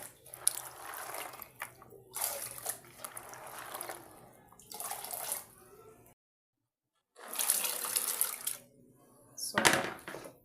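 Maize and pigeon peas are washed in a pot of water, heard as a few separate bursts of splashing, sloshing and trickling. Short quiet pauses fall between the bursts, and one pause near the middle is fully silent.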